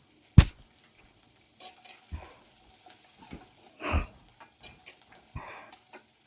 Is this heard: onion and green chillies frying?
yes